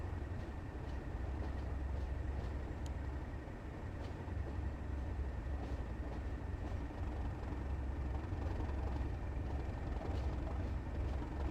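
Heavy diesel freight locomotives rumble steadily while shunting around a freight yard in Train Sim World 2 on the Tees Valley Line, a loud, thick low drone that holds throughout with no talk.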